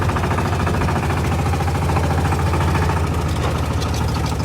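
A Lanz D1266 tractor, a small engine with a big flywheel, idles loud and close with a slow, heavy, even thumping beat and a dense mechanical rumble.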